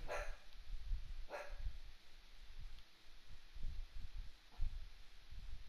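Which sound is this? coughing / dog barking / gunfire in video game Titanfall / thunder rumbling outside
dog barking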